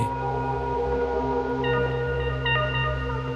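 A modular synth patch built around a kalimba-like ambient voice rings out in sustained, layered tones, with brighter partials joining about halfway through and again near the end, steady and moderately loud with no talking.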